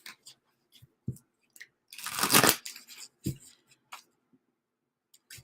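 Playing cards are riffled and shuffled up close, with scattered soft flicks and snaps around a louder burst of rapid riffling in the middle, no talking.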